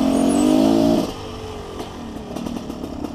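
Motorcycle engines rev loudly, one whining high then dropping away, followed by several bikes puttering and buzzing past nearby.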